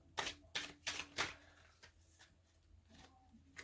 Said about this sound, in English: because this deck is so big, it's like so hard to shuffle